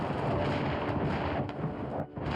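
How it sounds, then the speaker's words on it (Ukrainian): Russian artillery fire near a front-line town: a continuous, heavy broadband rumble of distant bombardment with no voices, holding steady and dipping only briefly near the end. "Артилерія росіян тут не вгамовується і несе смерть усьому живому."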